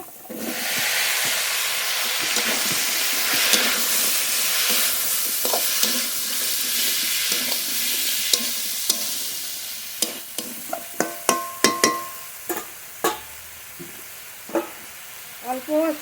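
Prawns, spices and kochur loti stirred in a frying pan with a steady loud sizzle and hiss, followed by intermittent sharp scrapes and clinks of the spoon against the pan toward the end.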